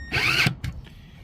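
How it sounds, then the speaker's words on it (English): A cordless power drill drives screws during a stove door glass seal repair, with one short, loud whirring burst that stops abruptly, then a brief faint mechanical click. "we'll finish all these screws off and tension them on the drill"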